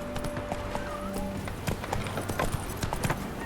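Geralt's horse Roach in The Witcher 3 gallops with quick, steady hoof clip-clops and a brief whinny. The hoofbeats come through fairly close against quiet ambient game sound.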